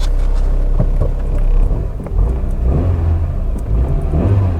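A cheap old Citroen Saxo engine idles and revs steadily up close, a low rumbling drone with rough vibration and a brief rise and dip in pitch.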